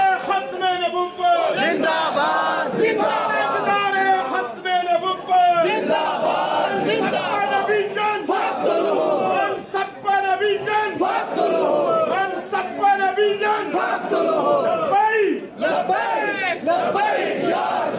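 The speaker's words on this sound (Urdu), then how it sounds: "لوگ یا رسول اللہ تاجدار ختم نبوت صلی اللہ علیہ وسلم کے نعرے لگا رہے ہیں" A large crowd at a wedding reception (walima) chants religious Labbaik Ya Rasool Allah slogans in loud, rhythmic unison, voices rising and falling in repeated call-and-response waves for the whole stretch.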